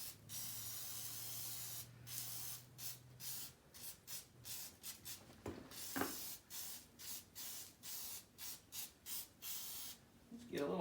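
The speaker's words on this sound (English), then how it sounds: "Let me just give everything a little shot of WD here." Short bursts of WD-40 spray hiss onto an abandoned 1970s John Deere bicycle, repeated in a quick irregular rhythm of a dozen or so close squirts with brief pauses between them.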